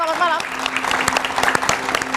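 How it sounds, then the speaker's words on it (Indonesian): Studio audience applause for guests on an Indonesian political talk show, a steady clap spreading throughout, with a host greeting over it. "Tepuk tangan yang meriah untuk narasumber saya pada malam hari ini"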